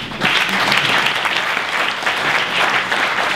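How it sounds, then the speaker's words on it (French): Loud, sustained applause from a conference audience at an international careers-network winter school, a dense and even roar of many hands clapping, with no one speaking over it. "On peut les applaudir."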